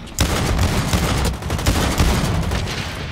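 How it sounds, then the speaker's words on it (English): Revolver shots in the shooter game Blacklight Retribution, a loud sharp crack at the start followed by a dense run of gunfire and booms that fills the whole stretch, with no voices. "I am loving this revolver too"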